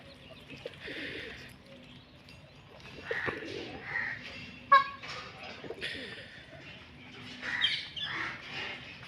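Pigeons cooing with other birds chirping around an ashram on the Narmada parikrama route, moderately near and soft, with a brief louder call midway and faint voices now and then.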